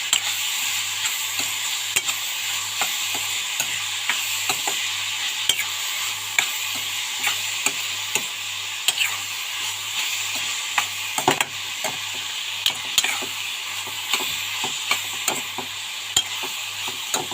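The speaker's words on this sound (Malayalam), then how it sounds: "ഇനി നല്ലപോലെ ഇളക്കി കൊടുക്കാം ഉപ്പൊക്കെ ഒന്ന് പിടിച്ചെടുക്കാൻ വേണ്ടി" Pineapple thoran is stirred in a frying pan, with a steady soft sizzle under repeated sharp scraping and tapping strokes that keep an uneven rhythm throughout, close by.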